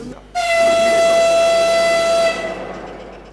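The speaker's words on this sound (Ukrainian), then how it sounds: "І потяг рушає." A train horn sounds one long, loud, steady blast as a troop train pulls away during a mobilization send-off, then it cuts off and leaves a fading rumble of the departing cars.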